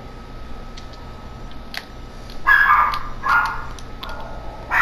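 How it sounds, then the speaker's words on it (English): A dog barks a few times at close range, short sharp bursts scattered over a low background hum during an NBA 2K18 gaming session. "That's my dog, by the way."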